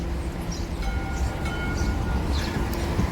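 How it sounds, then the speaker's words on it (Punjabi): Steady low rumble of a train pulling in, with faint squealing tones and metallic hiss over continuous rolling noise. "ਟ੍ਰੇਨ ਆ ਗਈ ਪਾ ਟ੍ਰੇਨ ਚੜਨਾ"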